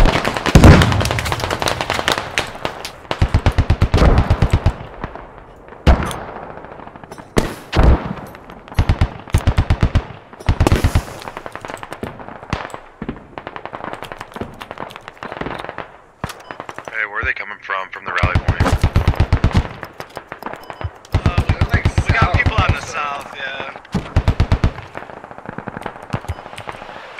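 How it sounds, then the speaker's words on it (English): Video game gunfire rattles in repeated bursts of automatic shots and single cracks, loud and close at times, spread across a long stretch with quieter gaps, with someone talking between and over the shooting. "They're popping shots for sure."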